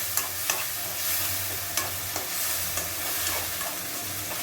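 Chopped tomatoes sautéing in a crab gravy: a close, steady sizzle under regular stirring strokes and light spatula knocks against the pan, no one talking.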